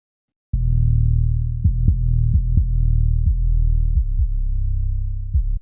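A deep, sustained 808 sub-bass tone processed through a bass resonance plugin, with a resonant hum, broken by several short clicky attacks as new notes retrigger, loud and alone.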